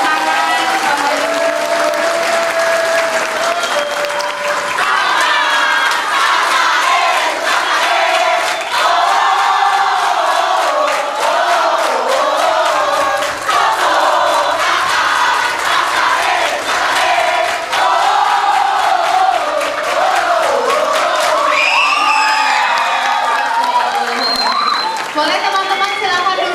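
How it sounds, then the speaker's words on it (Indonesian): Audience at a Good Friday Way of the Cross reenactment applauding steadily and loudly throughout, with crowd voices, shouts and whistles mixed into the dense, continuous clapping. "Boleh kita berikan tepuk tangan Bapak Ibu."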